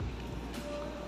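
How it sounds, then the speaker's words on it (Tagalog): A continuous low roar of sea surf beneath a bridge, broadband and steady, with a faint tonal hum running through it over about a second. "Lakas ng alon."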